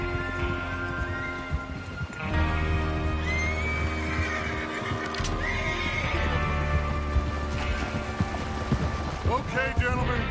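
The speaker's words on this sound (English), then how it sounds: "Get your horses ready." Horses neigh and whinny in the Red Dead Redemption 2 game, with hoof clip-clops and a steady low rumble beneath, as voices talk over the sounds.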